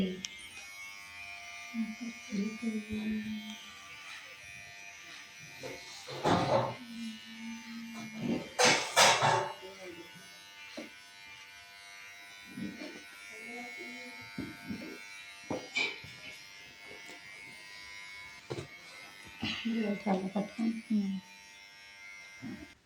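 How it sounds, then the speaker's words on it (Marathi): An electric shaver buzzes steadily while shaving a man's beard at home, a continuous hum rising and falling in loudness, with someone talking over it at intervals. "ही बघा मी त्यांची दाढी करत आहे."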